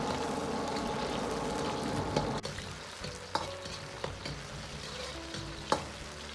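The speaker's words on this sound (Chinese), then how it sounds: "炒至葱姜蒜微黄" Scallion, ginger and garlic are stir-fried over medium heat in hot oil with star anise for Tianjin Hui-style stewed beef. A dense close sizzle runs throughout, punctuated by sharp, irregular spatula scrapes and knocks against the wok, with no speech.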